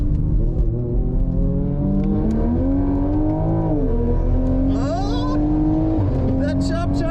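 A tuned Toyota MkV Supra with a downpipe and custom ECU tune accelerating hard in a race, engine note climbing through gears with shift dips, and excited voices shouting over it.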